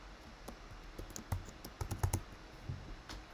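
Quick, irregular clicks of typing on a computer keyboard, close and fairly quiet, with short pauses between bursts.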